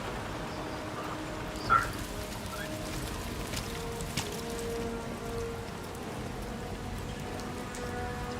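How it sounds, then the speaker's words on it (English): Steady rain patters and hisses in a scene from the video game Resident Evil Requiem, a continuous even wash of drops on surfaces with a couple of faint brief taps, no talking. "I love the rain effects in this scene too."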